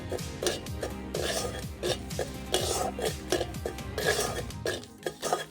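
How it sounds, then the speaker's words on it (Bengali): Asafoetida and salt roasting together in a pan as a spoon stirs them repeatedly. Close, rhythmic metallic scrapes and clanks go on with no talking. "হিংটাও লবণের সঙ্গে ভালো করে নাড়িয়ে ভেজে নেব।"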